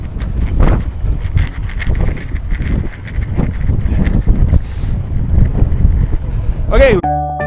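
Gusty wind buffets an outdoor microphone on a breezy day while a person talks throughout, with a short sharp sound near the end.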